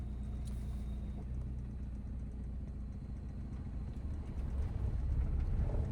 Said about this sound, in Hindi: ये बिना एक्सीलेटर में कार को मूव करा रहा हूं